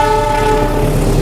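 Passenger train crossing the long Cikubang railway bridge in Indonesia, heard as a loud, steady rumble with a sustained horn tone held across the whole short stretch.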